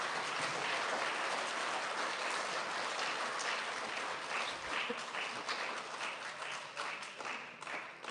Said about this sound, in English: Big round of applause for our fourth graders.